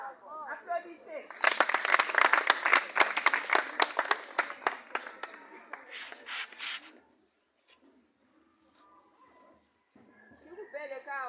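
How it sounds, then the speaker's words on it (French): A youth gathering at a church retreat breaks into clapping applause lasting several seconds, crowded and lively, then falls quiet, with voices speaking before and after. "Applaudissez."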